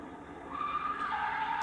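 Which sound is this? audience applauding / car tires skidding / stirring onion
car tires skidding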